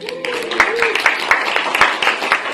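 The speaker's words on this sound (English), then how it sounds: "the reason I asked you guys to clap" A crowd at a handover ceremony claps together in a scattered, lively round of applause, with individual sharp claps standing out and a voice briefly audible at the start.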